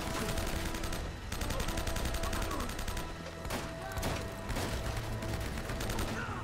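Rapid automatic gunfire in Uncharted: Drake's Fortune during a dockside fight, fast rattling bursts filling the scene with brief pauses between volleys and no talking.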